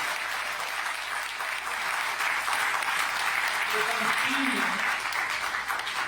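A round of applause for the president at a gathering in his honour, steady crowd clapping across the whole stretch, with a voice speaking briefly partway through.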